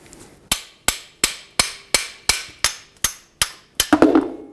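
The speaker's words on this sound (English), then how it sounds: "gonna grab a hammer and pop this pad out." Ten sharp metallic hammer strikes knock a rear brake pad out of a Ford F-150 caliper at a steady rhythm, each ringing briefly, ending in a quick cluster of clanks and a scraping rattle.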